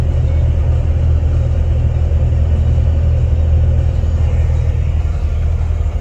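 Inside a moving car, a deep, steady engine and road rumble fills the cabin, loud and continuous throughout with no voices over it.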